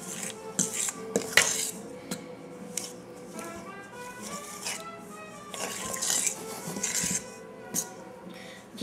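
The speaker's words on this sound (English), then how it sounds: "I think of it as cutting the flour into the butter and shortening" Pastry cutter or fork working flour into butter and shortening for a pie crust in a bowl, giving steady scraping and clinking of metal against dish, with soft rhythmic taps throughout.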